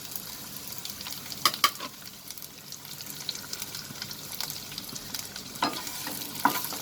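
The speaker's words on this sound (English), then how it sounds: "Now I'm going to add the cubed onions and the green chilies." Cubed onions and green chilies frying in a pan for a prawn stir fry, a steady close sizzle with a few sharp stirs and clinks of a spoon, no talking.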